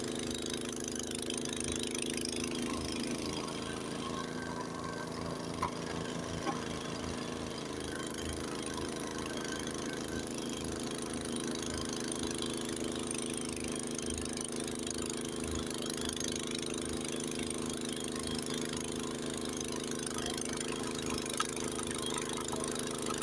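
Honda HS80 snowblower engine runs steadily while clearing snow during a Lake Tahoe storm, a loud, close mid-pitched drone with a rhythmic throb and no talk.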